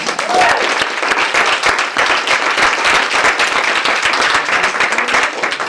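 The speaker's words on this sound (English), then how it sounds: "Give him a round of applause, guys." A seminar audience claps loudly and steadily in a dense, even burst of applause that fills the room without pause, with a few faint voices underneath.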